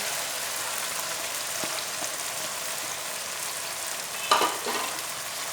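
Soft sizzling and a gentle stirring scrape as fried onions are mixed into an eggplant curry in the pan, quiet and steady, with a brief utensil clink near the end.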